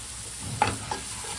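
A spice masala with tomato is stirred as it fries in a pan, with a soft, steady sizzle and two quick scrapes of the spoon, close and quiet, no talk.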